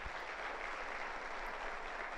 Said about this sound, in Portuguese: Eu peço inclusive um aplauso para eles.